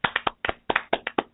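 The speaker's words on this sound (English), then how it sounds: "So an applause here for Jana Rama" Hand clapping for a magazine's editor-in-chief on a radio show, a sparse, close set of about ten sharp claps in an uneven rhythm with brief gaps, sounding like just one or two people rather than a full crowd.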